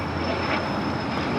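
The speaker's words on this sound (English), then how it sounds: "the Lufthansa Queen heading over there to 25 left for a departure back to Deutschland" A Lufthansa Boeing 747-8 Intercontinental taxis toward runway 25 left at LAX, its engines a steady, broadband roar at moderate distance, continuous and unbroken.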